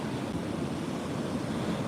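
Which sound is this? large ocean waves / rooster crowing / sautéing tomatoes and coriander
large ocean waves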